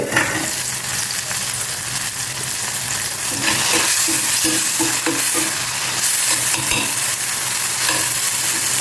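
Vegetables and tomatoes cooking in a covered pan, a steady close sizzle and bubbling hiss with small clicks throughout, no voices.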